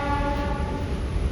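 An MMTS suburban train arriving at Lalaguda Gate station on the Secunderabad–Medchal line, its horn sounding as a steady tonal blare over low rumbling rail noise, close and continuous through the moment.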